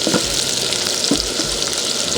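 Chicken sizzles steadily in a pan with capsicum and onion as it is stirred, a dense constant frying hiss broken by a few soft scraping strokes, close and alone with no talking.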